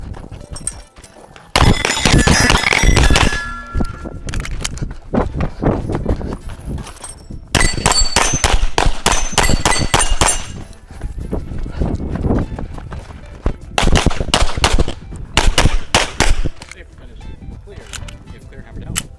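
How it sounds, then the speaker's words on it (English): Rapid gunshots at a shooting match, fired in quick volleys with pauses between strings, loud and close, with talking mixed in. "I'm gonna run around this whole joint, shooting some targets."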